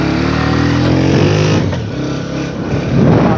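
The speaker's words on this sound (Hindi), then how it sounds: "हम बाइक पे जा रहे हैं" A motorbike engine climbs a hill road near the Mankiyala Buddhist stupa in Pakistan, droning steadily and loudly with harmonic revving that lifts toward the end, close by and with no talk over it.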